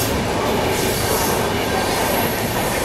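The Amritsar–Mumbai passenger train rumbles past close by, heard from aboard the Rajdhani Express, a loud continuous roar of wheels on rails with faint clattering and squeal.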